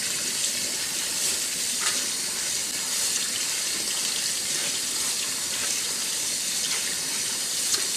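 Tap water runs steadily into a pot of rice being rinsed, a constant close hissing splash with faint clinks, no voices.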